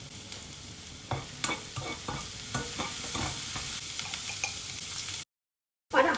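Finely chopped onion frying and stirred in a pan for paneer biryani: a steady close sizzle with repeated scraping stirs throughout, breaking off near the end before a final burst.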